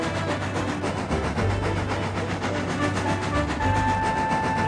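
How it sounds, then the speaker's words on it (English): A small narrow-gauge steam engine hauling a passenger train along a line gives a steady rumbling, rhythmic chuffing run with a low engine drone, heard alone without talk. "he puffed along the line with his train of happy enthusiasts"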